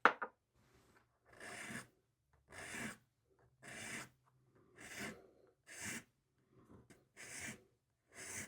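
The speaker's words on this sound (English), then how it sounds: "So we'll see about filing and sanding those down." Filing and sanding a tobacco pipe stem, a close rasping sound in regular strokes about once a second, each a short scraping burst separated by quiet gaps.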